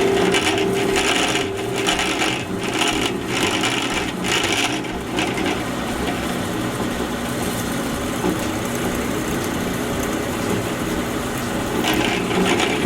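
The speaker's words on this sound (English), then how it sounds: "we're going to turn this thing on and start drilling for our safety wire" A drill bit grinds steadily into steel bolts, a continuous rough whirring and rasping that stays loud and close throughout, with brief variations in pitch.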